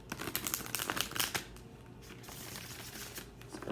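New tarot cards being shuffled by hand, a quick run of crisp riffling and flicking close up, then a quieter pause before a few soft card slaps at the end.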